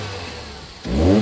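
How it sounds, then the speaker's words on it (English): A Japanese car's engine idles low, then revs sharply with a loud, throaty induction roar, close by and brief, with no talking. "Sounds like it's got a bit of an induction roar"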